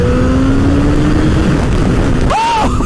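A gas sport motorcycle engine revs loudly and steadily up close, droning throughout with a brief rising whine near the end.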